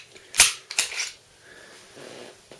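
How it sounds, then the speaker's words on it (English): Mechanical clacks of a Sigma SW9VE pistol slide being pulled off its frame during a basic takedown: two sharp metallic snaps in quick succession, then a fainter click, close up and with no talking. "So I'll just disconnect the slide from the frame."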